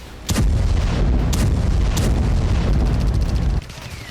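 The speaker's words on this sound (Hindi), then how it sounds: "गोलियां चल रही हैं, रॉकेट दागे जा रहे हैं, फाइटर जेट बमबारी कर रहे हैं।" Gunfire and rocket fire in border fighting between Thailand and Cambodia make a loud, continuous roaring barrage punctuated by a few sharp cracks, lasting about three seconds before dropping back to a lower rumble.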